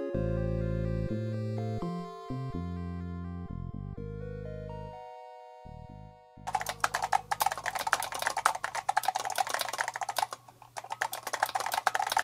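An Apple II Plus keyboard, freshly cleaned, is typed on: a rapid, irregular clatter of close key presses follows a short run of electronic beeping tones.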